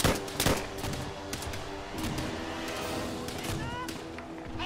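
Gunfire in Call of Duty: World at War rattles in close bursts, with a strong crack at the start and steady shooting after, while a voice talks over it.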